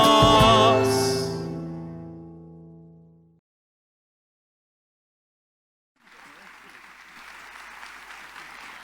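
An audience at a talk on Fray Mamerto Esquiú applauds steadily for about three seconds at the end, a dense, moderately loud patter of clapping. It follows a sustained musical chord that fades into silence.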